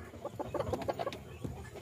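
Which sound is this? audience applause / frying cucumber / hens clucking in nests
hens clucking in nests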